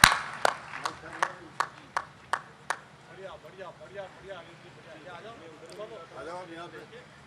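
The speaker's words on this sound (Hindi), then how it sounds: "जोरदार तालियों के साथ बिटिया" An audience at a Hindi poetry gathering claps to welcome a poet, starting with a run of sharp, evenly spaced claps that fade into softer, scattered applause.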